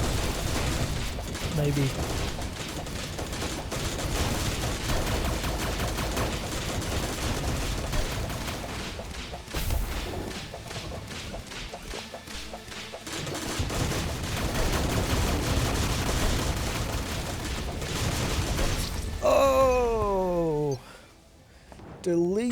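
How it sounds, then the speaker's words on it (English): Rocket barrage and weapon fire from the Exo Mechs boss fight in Terraria with the Calamity Infernum mod, a dense continuous fusillade of blasts and booms with laser sweeps near the end, loud under a player's occasional talk. "I think if I get too far away, it does the rocket barrage."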